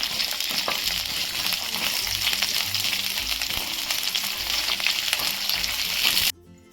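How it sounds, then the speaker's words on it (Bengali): A steady, loud crackling sizzle of onions frying in hot oil fills most of the clip, then cuts off abruptly near the end. "পেঁয়াজটা আমি আলাদা করে ভেজে নেব"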